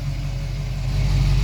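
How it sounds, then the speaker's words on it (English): A 1966 Ford Mustang with a 302 engine idles steadily, a deep, even rumble heard close and loud throughout with no talking. "1966 Mustang, fog lights, 302 engine, running good."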